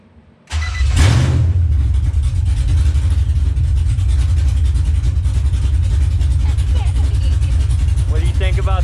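A vehicle is started by pressing the brake and a push button. The engine cranks briefly, catches with a rev, then settles into a loud, steady idle while a voice is faintly heard near the end.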